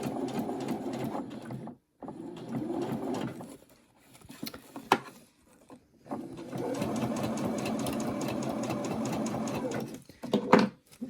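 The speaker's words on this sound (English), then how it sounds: "I can go back and carry on with my seam all the way around." A sewing machine stitches a seam around a reversible fabric face mask, running in rapid mechanical bursts separated by short pauses, close and clear with no talk.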